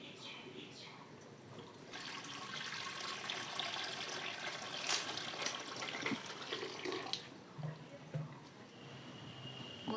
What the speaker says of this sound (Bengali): বন্ধুরা এবার আমি কড়াই জলটা দিয়ে দেব।